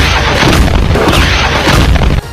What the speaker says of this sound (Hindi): इराक के उस एयरबेस के अंदर एक के बाद एक जोरदार धमाके होने लगे